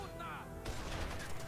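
Gunfire bursts out in a Rainbow 6 Vegas firefight, a dense volley starting partway through after a quieter moment with voices, continuing loud and steady under talking.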